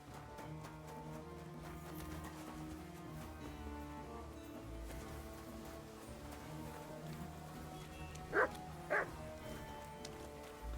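A dog barks twice in Kingdom Come: Deliverance II, two short, fairly loud yelps near the end over the game's steady ambient music and background bed.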